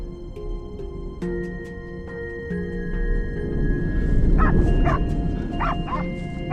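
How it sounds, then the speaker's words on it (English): Hunting dogs bay at a cornered wild boar, with a run of sharp, repeated barks growing louder midway over a steady tonal background. "Hunters then tune into the dog's barking, using it as a precise signal to pinpoint the boar's location"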